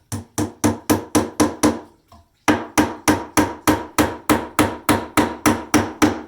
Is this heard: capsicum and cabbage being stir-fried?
no